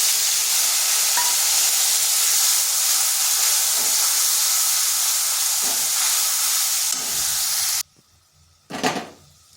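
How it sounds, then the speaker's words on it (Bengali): Ground spice paste mixed with water sizzles loudly in hot oil with lightly fried ginger, a steady dense hiss for most of the stretch before it abruptly drops away, followed by a short burst of stirring. "এই তেলের সাথে মশলাটা কিন্তু বেশ কিছুক্ষণ ধরে নেড়ে নেড়ে কষে নিতে হবে"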